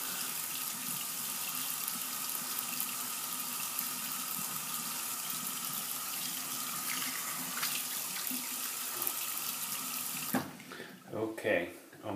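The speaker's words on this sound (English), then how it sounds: "let's go ahead and rinse the soap one more time for the final pass." Tap water runs steadily into a sink as shaving soap is rinsed off between passes of a wet shave, a constant close hiss that stops near the end and gives way to a few splashes and handling sounds.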